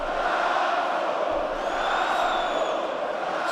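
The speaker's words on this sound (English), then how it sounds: "Spanish crowd chanting Franco" A Spanish crowd at a PFL MMA fight chants for fighter Franco Tenaglia, a sustained, distant-sounding roar of many voices blending into a continuous wash of crowd noise.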